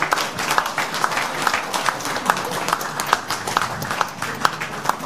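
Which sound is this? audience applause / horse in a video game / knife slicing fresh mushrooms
audience applause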